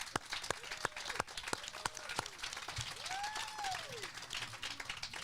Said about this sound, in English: Let's have a round of applause for Mark.